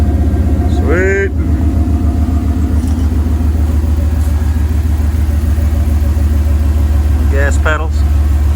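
A rock bouncer off-road vehicle under construction in a front yard runs with a steady, loud, close engine rumble throughout, with two brief squeaky chirps near the start and end.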